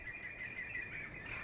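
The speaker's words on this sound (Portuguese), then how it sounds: "o passarinho começou a gritar bem agora" A small bird gives a steady, shrill, high-pitched call that carries on continuously over a quiet, noisy room background.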